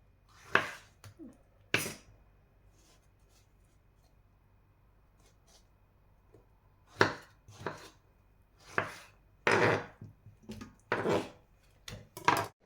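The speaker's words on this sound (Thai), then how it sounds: "หั่นใหญ่ๆไปเลยมะเขือเทศต้ม" Tomatoes being chopped into large chunks for boiling down into tomato juice and sauce, a series of sharp knife strikes on a board in two bursts separated by a pause, close and fairly loud with no talk.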